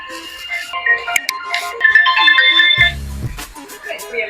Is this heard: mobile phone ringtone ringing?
yes